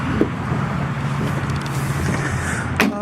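Idling engine of a black, lifted 2017 Kawasaki Mule Pro FXT EPS LE utility vehicle, a steady low smooth purr held close and even throughout, with a brief sharper click near the end.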